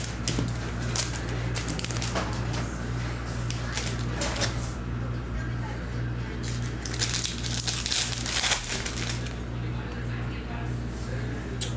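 A foil pack of 2022 Capstone MLB baseball trading cards is torn and crinkled open, producing a continuous close rustling and crackling with a few sharper rips, over a steady background hum.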